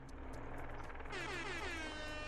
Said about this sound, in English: Thank you for the air horn.